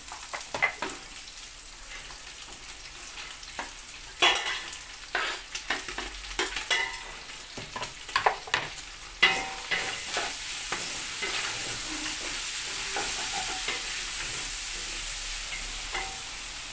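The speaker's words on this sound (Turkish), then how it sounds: "Soğanlar kavrulurken" Onions sautéing in oil, a steady close sizzle with repeated stirring and scraping strokes in the first half, then a smoother, continuous frying hiss.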